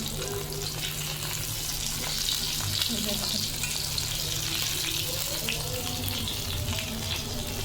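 Fish frying in mustard oil in a home kitchen, giving a steady, close crackling sizzle that runs throughout, with faint background voices and a low hum underneath.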